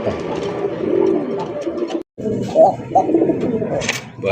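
Several pigeons from a loft of breeding birds sold with eggs and chicks coo steadily and busily at close range, with overlapping low throaty calls and a brief gap partway through.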